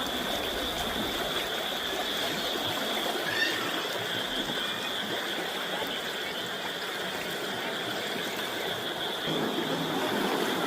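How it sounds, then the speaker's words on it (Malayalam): Flash floodwater rushes past in a steady, loud, broadband roar that holds unbroken throughout, with no voices. "മഴയില്ല പക്ഷെ വെള്ളം വന്നുകൊണ്ടായിരിക്കുന്നു"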